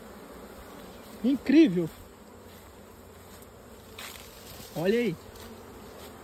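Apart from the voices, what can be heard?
honey bees buzzing at hive boxes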